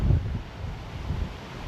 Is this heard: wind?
yes